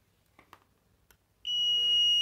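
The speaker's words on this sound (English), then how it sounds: "it has a buzzer, a sound indicator" Contactless voltage detector's buzzer, sounding as one steady, high-pitched continuous beep that starts abruptly after a few faint clicks and handling taps, close and fairly loud.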